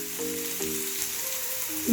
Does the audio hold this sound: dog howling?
no